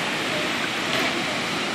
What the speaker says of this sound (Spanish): Mira qué hermoso la cascada.